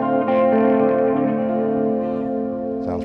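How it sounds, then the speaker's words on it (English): Sustained electric guitar chords played through MXR analog chorus and MXR Carbon Copy delay pedals with reverb, a shimmering, wavering wash ringing out steadily with a fresh strum near the end. "I got MXR pedals, MXR analog chorus, and I got an MXR carbon copy delay"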